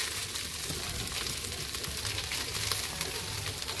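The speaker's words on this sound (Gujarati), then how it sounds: "ઘી નાખી દીધા પછી આપણે એમાં થોડા રાઈસ નાખવાના છે." Rice tipped into hot ghee in a pan while layering a three-layer aloo biryani, giving a steady, close, even sizzle and frying hiss with faint stirring scrapes throughout, no voices.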